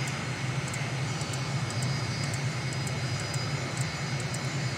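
Steady, loud jet engine whine and roar of an MB-339 jet in Microsoft Flight Simulator during a carrier approach, continuous and unchanging, with faint periodic clicks and no talk.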